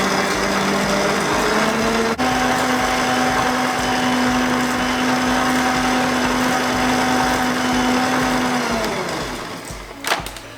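An electric hand mixer whirs steadily through carrot cake batter after baking powder, baking soda and cinnamon go in, a continuous high motor drone that changes pitch partway and then winds down near the end, with no talking.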